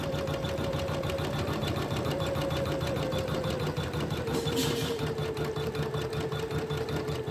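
An Usha 550 sewing machine runs steadily and close up, a fast continuous mechanical whirr and clatter with a sustained motor hum, and no voices over it.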